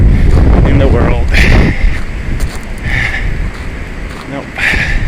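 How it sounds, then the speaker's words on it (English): Strong wind buffets the microphone outdoors near a bridge, a loud, rumbling low roar that gusts and eases throughout, with passing traffic and someone talking underneath. "It's really windy."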